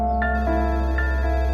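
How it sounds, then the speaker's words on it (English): A telephone rings with a steady electronic tone, a loud sustained trill with two brief accents, heard alone with no speech. "The phone rang"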